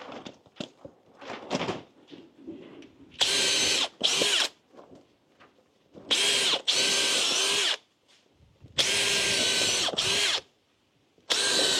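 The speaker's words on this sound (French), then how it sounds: "on fait des petits trous pour les visser" Power drill boring small holes into wooden studs of a timber-frame house wall, three loud bursts of a couple of seconds each, separated by quieter handling knocks and clatter.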